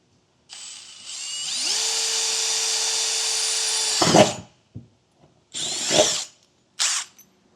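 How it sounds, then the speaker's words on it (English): A power drill whines for a few seconds, rising in pitch as it bites into the metal of a 2025 Ford truck bed while drilling a pilot hole, then stops; two shorter drill bursts follow after brief pauses. "I'm going to go ahead and drill a pilot hole here."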